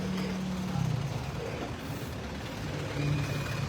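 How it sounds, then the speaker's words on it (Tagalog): Steady road traffic crowds the lanes of a cemetery in the Philippines, a continuous low rumble of car and truck engines with a brief air-brake hiss, heard at moderate distance with no clear voices. "Traffic sa sementeryo."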